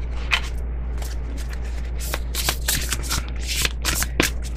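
Tarot cards shuffled by hand during a reading, a steady riffling and flicking of cards close up, in repeated quick bursts over a constant low hum.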